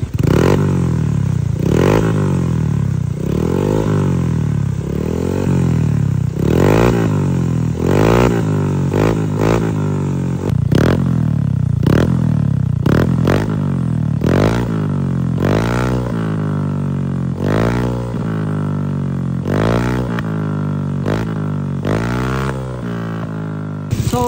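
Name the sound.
Yamaha Mio i 125 scooter revving with KVIN exhaust pipe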